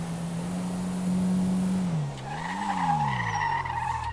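Declasse Asea compact car in GTA Online cornering hard, with a loud sustained tire squeal that wavers in pitch as the car swings through the turn, engine droning underneath, no talking.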